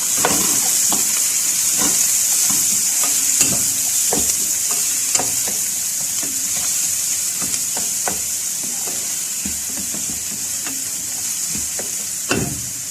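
Onions sizzle steadily in hot oil for butter chicken, a continuous bright frying hiss broken by sharp scrapes and clinks of stirring at irregular moments, close and fairly loud with no voices.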